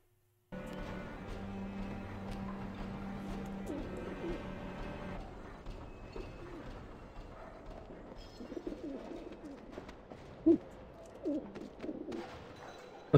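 Pigeons or doves cooing inside a coop in the video game Alice: Madness Returns, a steady low murmur of coos over droning game music, with a few brief louder knocks near the end.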